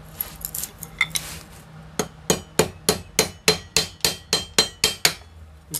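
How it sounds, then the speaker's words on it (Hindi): A hammer drives a bushing into an electric motor: a few scattered light taps, then a steady run of about a dozen sharp metallic blows in even rhythm, close and loud, with no talking. "इसको अच्छे से ठोक लेना है।"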